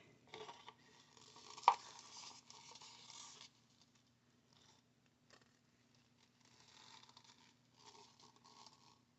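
A stick stirs colored resin in a cup with soft, faint scraping and patter in intermittent bursts, one brief knock, and quiet pauses between the strokes.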